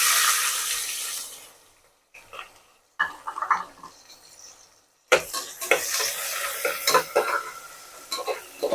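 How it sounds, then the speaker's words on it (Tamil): Large chopped onions sizzle and hiss as they fry in a pan for Bhai-style biryani, with bursts of stirring and utensil scrapes separated by short pauses, close and fairly loud. "வெங்காயம் வந்து நல்லா பொன்னிறமாக வந்து வதங்கி வரணும்"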